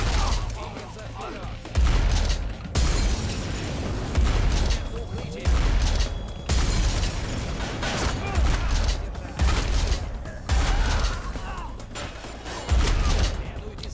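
Gunfire in the PC action game Spy Hunter: Nowhere to Run, with dense repeated bursts of shots and booms running throughout, loud and close, and a voice talking over parts of it.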